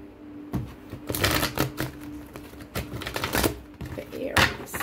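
Oracle cards riffled and shuffled by hand in a series of quick crisp bursts of papery flutter and snaps, close and fairly loud, with soft handling rustles between.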